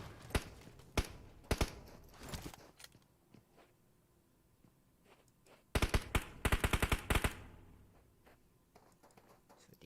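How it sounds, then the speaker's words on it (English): Gunfire rings out during an esports battle-royale finals match. Sharp single shots come first, then a dense rapid automatic burst midway. The shots have a slightly distant, echoing character, and there is no talk. "They are shooting in the distance."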